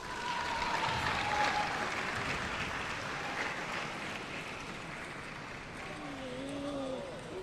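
Applause ripples through the arena at a World Team Table Tennis Championships finals match in London, a sustained moderate clapping that stays steady, with faint commentary-like voices underneath.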